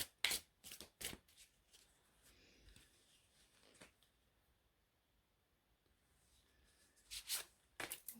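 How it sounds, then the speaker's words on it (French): Playing cards being shuffled and laid down by hand: faint crisp riffling bursts at the start and again near the end, with quiet shuffling in between and no talk. "je les pose de façon complètement arbitraire et je vais les mélanger ensuite"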